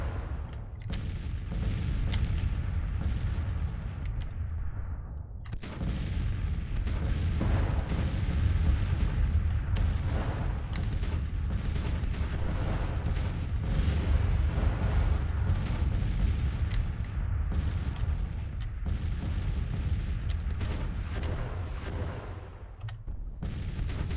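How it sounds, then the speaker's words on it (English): Sustained heavy artillery fire from Civil War-era cannons in Grand Tactician: The Civil War, a dense, continuous rumble of booms and blasts that runs loud throughout with a brief dip near five seconds. "Counter battery fire,"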